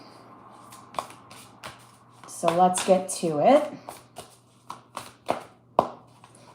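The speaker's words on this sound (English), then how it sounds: "I'm just shuffling my tarot decks" Tarot card decks are shuffled by hand, with a run of riffling, flapping card sounds in the middle surrounded by sharper taps and clacks. A person speaks briefly over the handling.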